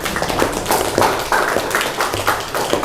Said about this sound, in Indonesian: Silakan dikasih aplaus dulu sebelum penutupan.